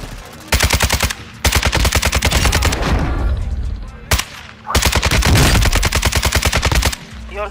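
Rapid automatic gunfire rattles in long, loud bursts during a Call of Duty Warzone Resurgence duos match, two extended volleys separated by a brief pause, with faint voices underneath.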